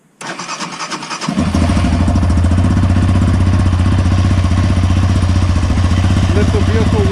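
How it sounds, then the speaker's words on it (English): A 2020 Yamaha Raptor 700R ATV engine cranks briefly, catches, and settles into a loud, steady, close-up idle with a throbbing low rumble that continues throughout. "We're gonna turn on the bike, bring up the temperature to operating range."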